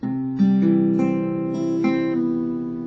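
A fingerpicked acoustic guitar chord rings out with notes picked one after another, each attack adding to a sustained, slowly decaying chord, close and clear with no voice.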